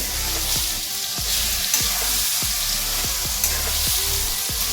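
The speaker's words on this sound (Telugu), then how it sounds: "ఇప్పుడు ఇదంతా కూడా సిమ్లోనే మనం ఫ్రై చేసుకోవాలండి." Onions fry gently on a low flame for a spicy bitter gourd curry, a dense steady sizzle with regular soft scraping strokes of a spatula about every half second, close and continuous.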